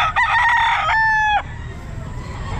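A hatch grey gamecock rooster crows loudly and close by at a busy pet market, one full cock-a-doodle-doo call lasting just over a second, followed by low background crowd noise.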